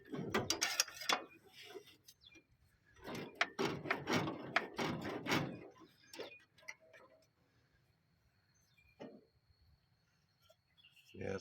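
A stuck Willys jeep engine is turned over by hand, producing irregular mechanical clicks, ratcheting and scraping in short bursts, fairly close, with quieter gaps and a few faint clicks later on.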